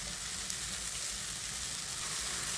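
Spices for a koi fish curry with teasel gourd and potato sizzle steadily in hot oil, a soft, even frying hiss with faint stirring, close by and without voices.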